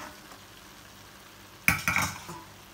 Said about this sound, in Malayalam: ഇനി നമ്മൾ വറുത്ത് വെച്ചിരിക്കുന്ന ചിക്കൻ ഇതിലേക്ക് ഇട്ട് കൊടുക്കണം